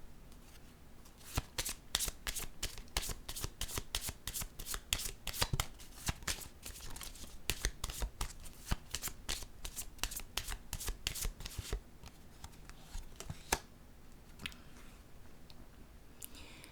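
Pink oracle cards shuffled and drawn by hand, a dense run of quick crisp riffling flicks for about twelve seconds, then a few isolated snaps and softer handling as cards are laid out, close and alone without talk.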